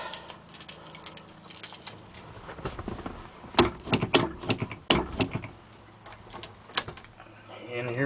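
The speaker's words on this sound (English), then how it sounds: "I got the keys." Keys jangle in several sharp metallic bursts near a 1987 Ford F350 pickup, loud and close, with quieter rustling and handling noises between the shakes.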